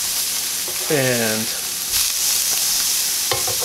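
Pork chops sizzle in a frying pan after being flipped: a loud, steady hiss of frying fat fills the whole clip, with a man's brief spoken word over it.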